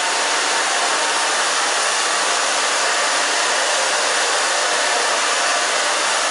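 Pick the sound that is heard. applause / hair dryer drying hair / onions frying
hair dryer drying hair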